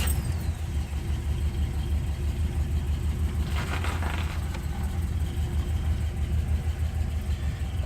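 A 1991 Jeep Grand Wagoneer, an auction find that had not been running, idles at close range with a steady, low, even engine rumble throughout, with a short burst of brighter hiss partway through and no voices.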